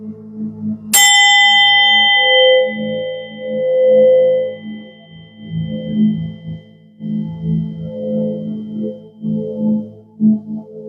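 A meditation bell tuned to 512 Hz is struck once, ringing out clearly and decaying slowly over several seconds, with soft low murmurs and movement continuing underneath.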